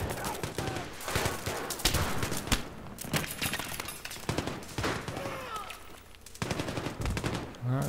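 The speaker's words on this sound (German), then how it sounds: "Voll unter Beschuss hier." Rapid gunfire from the video game Battlefield 3 multiplayer, repeated loud bursts and machine-gun rattles with explosions layered throughout, dense and continuous battle noise.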